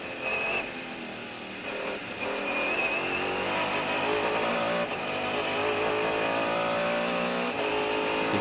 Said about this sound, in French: Le V8 Mercedes atmosphérique en pleine puissance avant la deuxième chicane